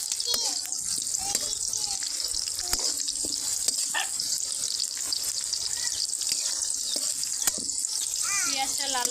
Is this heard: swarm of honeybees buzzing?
no